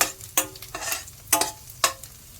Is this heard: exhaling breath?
no